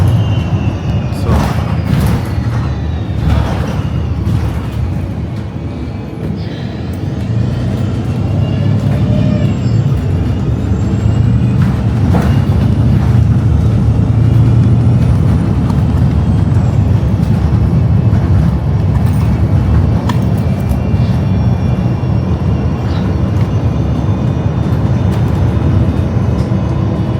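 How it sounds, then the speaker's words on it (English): A city bus engine runs through a long, steady, loud rumble that carries through the whole stretch, with intermittent clunks and hiss over it. "Here's the bus at exactly the right time."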